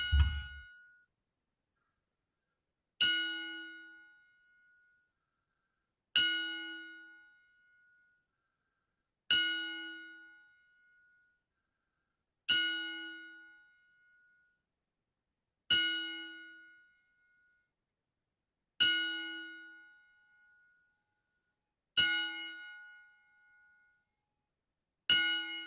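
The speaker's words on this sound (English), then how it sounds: "10 bell salute for Sheiky baby" Ten evenly spaced single bell strikes for a wrestling tribute salute, each a clear metallic ding that rings out and decays before the next, about three seconds apart, with no talking over them.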